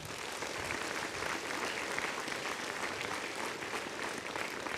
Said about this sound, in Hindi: एक बारी जोरदार तालियां इन लोगों के लिए बनती हैं।